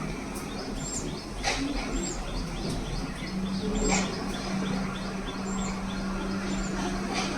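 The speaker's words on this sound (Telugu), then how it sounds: "హమ్మింగ్ బర్డ్స్ బేబీస్ పెట్టింది. తల్లి తండ్రి ఇద్దరు వచ్చి పెడుతున్నారు. ఏంటి గోల గోల కింద చేసేస్తున్నాయి" Hummingbird chicks chirp in their nest, with short high tweets repeating every second or so over a steady hiss of outdoor background noise.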